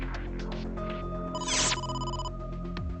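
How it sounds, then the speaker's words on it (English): A phone rings with a short electronic chime in the video game AI: Somnium Files, sounding over a steady background music bed with no talking. "Oh, phone call."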